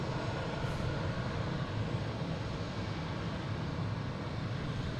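A Delta airliner departs Boston Logan airport, its jet engines a steady, broad roar heard from a distance, continuous and even throughout with no voices.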